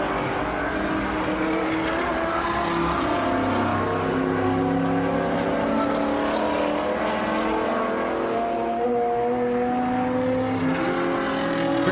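A Porsche race car engine drones steadily during a Group 6/12 race at Sebring Raceway, its pitch rising and falling as it works through gears, loud and continuous for the whole stretch.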